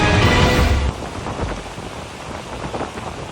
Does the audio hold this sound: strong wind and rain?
yes